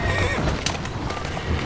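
In the video game Assassin's Creed Syndicate, a horse whinnies while its hooves clip-clop along, close and fairly loud, with a voice speaking briefly over the game sounds.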